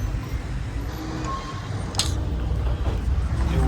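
Steady, dense rumble of idling and crawling vehicles on a jammed highway fills the air throughout, with a brief hiss near the middle rising over the constant drone.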